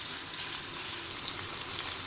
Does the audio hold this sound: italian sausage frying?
yes